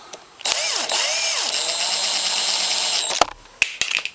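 A power driver whines up and down while tightening a screw on a Honda Recon 250 motor during assembly, a loud close run of about three seconds with pitch sweeps, followed by a few sharp clicks and handling knocks.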